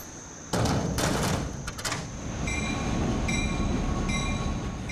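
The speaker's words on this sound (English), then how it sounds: "And cars are shifted and shunted into place." Railway cars on the Great Smoky Mountains Railway being shifted and shunted in a yard, with a sudden loud metallic clank and banging couplings, then a sustained rumbling roll with high squealing wheel tones.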